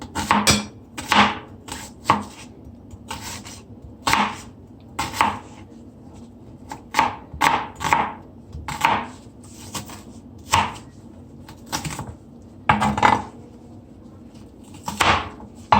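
A knife chopping an onion on a board, with a series of sharp, close knocks in uneven bursts and quiet pauses between them.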